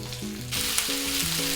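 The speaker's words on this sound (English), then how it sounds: "Add the pork and stir fry until it changes color." Pork stir-frying in hot oil in a frying pan over medium heat, a loud dense sizzle that jumps up partway through, with a steady melodic tone running underneath.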